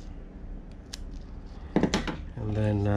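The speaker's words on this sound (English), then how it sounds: "You just cut the edges, round the edges off." Scissors trim and round the edges off a finger splint, making a few short, close snips followed by a soft rustle, with a faint voice under them.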